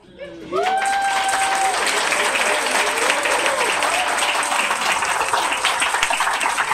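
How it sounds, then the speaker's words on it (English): A poetry festival audience breaks into loud, sustained applause, dense clapping that starts abruptly and holds steady throughout, with a brief voice heard at the very start. "another round of applause"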